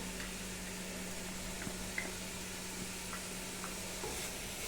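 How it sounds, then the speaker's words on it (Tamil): Onion, mint, tomato and green chilli sautéing in a pan for mushroom biryani, a quiet continuous sizzle with occasional soft stirring taps and a faint steady hum beneath, no speech. "வெங்காயம், புதினா, தக்காளி, பச்சை மிளகாய் போட்டு வதக்கிட்டு அதுலேயே கொஞ்சம் இஞ்சி பூண்டு பேஸ்ட்டையும் போட்டலாம்"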